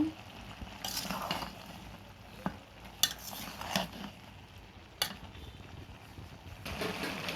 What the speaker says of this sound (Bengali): মাংসগুলো আমার কষানো চলছে, সব মশলা দিয়ে দিয়েছি।